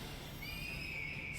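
A horse whinnies in the Triangle Strategy video game, a steady high drawn-out neigh held over a low rumbling backdrop for just over a second.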